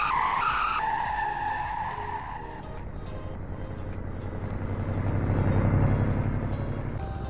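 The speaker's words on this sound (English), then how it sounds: "Oh, he's doing donuts." Video game car spinning donuts in a stunt show roleplay, tires skidding and squealing continuously alongside a revving engine, loud and close, with no talking.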